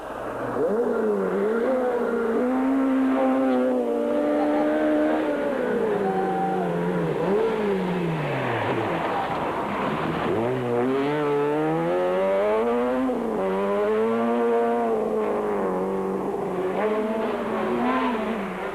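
Rally cars flat out on a special stage at the Cape Rally, engines revving hard with rising and falling pitch through gear changes, loud and continuous, a VW Polo among the field.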